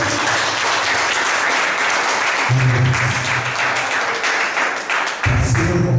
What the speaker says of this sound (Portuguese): As palmas ao Senhor.